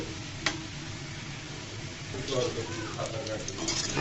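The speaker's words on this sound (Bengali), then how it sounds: "দেখতে পারতেছো সমস্ত নাস্তা কিন্তু আমার ভাজি করা হয়ে গিয়েছে, আমি ভাজি করে নিচ্ছি।" Bread and egg snacks fry in a pan with a soft, continuous sizzle, joined by occasional light clicks and scrapes of a utensil, moderately quiet.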